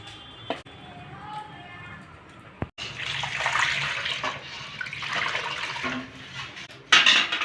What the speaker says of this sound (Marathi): आता हे थोडंसा वरचा कोंडा येतो आपण पाणी काढून घेऊया